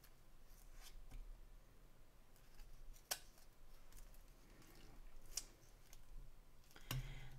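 Scissors snip repeatedly at close range, with quiet crisp cuts spaced irregularly over several seconds and a few sharper snaps standing out from the soft background.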